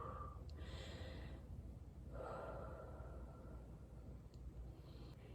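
Slow, deep breathing, a long audible inhale and exhale repeated twice, close and fairly soft against a low steady background hum, with no talking.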